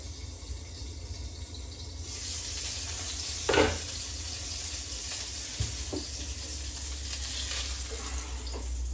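A steak resting in a pan with the heat turned off gives a steady, moderately loud sizzle that swells after a couple of seconds, broken by one brief clatter and a few faint knocks.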